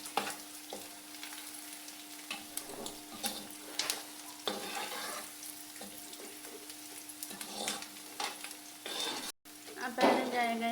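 Ginger and garlic sautéing in a pan for a bitter gourd and mutton dish: a quiet sizzle with repeated scraping, stirring strokes and light clinks of a spoon against the pan.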